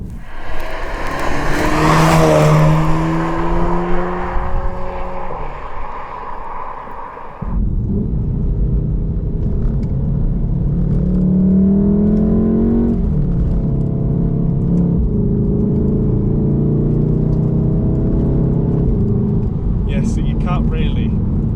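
A Volkswagen Golf R MK7 engine revs hard during a launch, loud and close, its tone climbing through a gear, dropping at a shift, then climbing again over a steady road roar.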